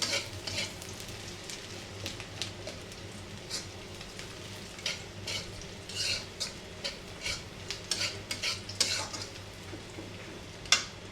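Fish and lentils fry in hot oil in a pan for a home breakfast. A steady, close sizzle runs throughout, broken by the repeated scrape and clink of a spoon stirring against the metal.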